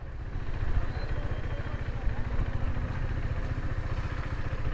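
A Yamaha R15 M motorcycle engine runs steadily and close by, with a low, even throb and light clatter as it rides slowly over a stone-strewn path.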